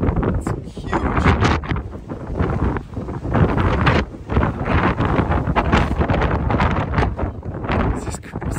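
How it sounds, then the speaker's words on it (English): Strong gusty wind at the rim of Meteor Crater roars and buffets the microphone continuously, loud and close, surging and dipping in waves for the whole stretch. "This is crazy wind."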